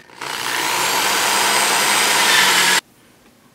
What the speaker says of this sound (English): don't drill all the way through each consecutive bit